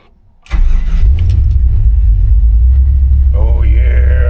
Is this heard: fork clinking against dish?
no